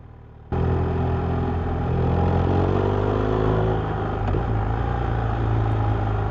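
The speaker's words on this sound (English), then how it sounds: "Listen to this little twat of the throttle." A BMW R1250R motorcycle engine starts abruptly and runs loud and steady with a rough, throbbing note, rising slightly as the throttle is opened, heard close up without any talking.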